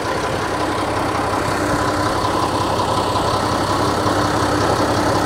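A rebuilt Perkins diesel engine on an old crane runs at a steady idle, a constant close rumble with an even low drone and no change in pace throughout.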